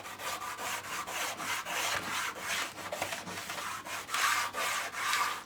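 Scalextric slot car track is sanded by hand with 120 grit sandpaper in rhythmic back-and-forth strokes, about a dozen close, scratchy rubs at an even pace, with no talk.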